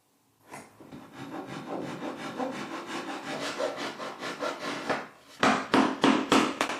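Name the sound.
joints cut by hand with a saw in white oak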